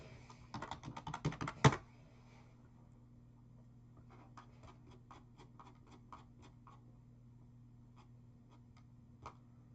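Rapid, close keystrokes clatter on a computer keyboard in a quick burst, followed by sparse, fainter key taps spread out over a low steady hum.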